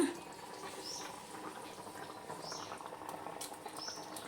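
Fresh tamarind leaves fry in a little oil for chicken curry, a quiet steady bubbling sizzle with faint light pops scattered throughout.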